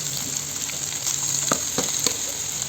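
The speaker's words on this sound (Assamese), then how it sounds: "গৰম হ'ল, কেৰাহীত পিঁয়াজ দিয়া হৈ গ'ল চাব পাৰে।" Onions and pork sizzle in a heated wok, a steady loud hiss of frying with a few faint stirring scrapes and clicks cutting through.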